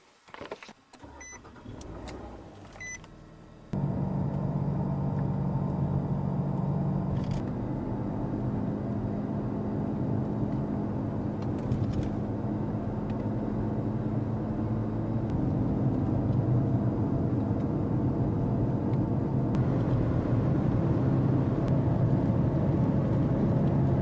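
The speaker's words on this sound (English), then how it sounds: "Let's get in the car" Steady low engine rumble and road noise inside a moving car, continuous and fairly loud, with occasional faint creaks and no talking.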